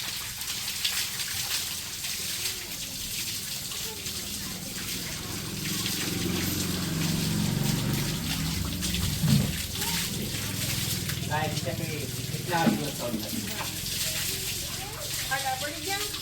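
Water is sloshed and trickled over cows being bathed on a hot day, producing soft continuous splashing and dribbling with a few louder splashes, heard at moderate distance under a steady background hiss.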